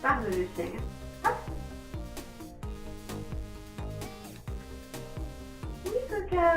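A dog barks on the speak command, giving several sharp, close barks and yips in an irregular sequence, with a person's voice also present.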